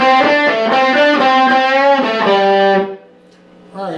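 An overdriven electric guitar plays a short lick: loud choppy notes for a few seconds, then a sustained note that drops away into a brief quiet gap before the next strum.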